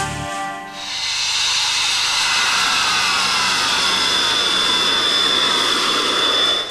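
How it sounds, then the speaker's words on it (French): A loud, roaring Swiss Army fighter jet with a sweeping, shifting hiss builds quickly and stays intense as it passes close by, crossing a national road. "Un avion de chasse qui traverse une route nationale."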